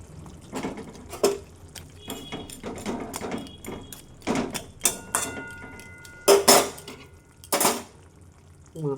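Metal pot clatters and a lid is set on it in a home kitchen while koi fish cooks with bottle gourd and green chillies; several sharp clanks and scrapes stand out over a low simmer, with no talk.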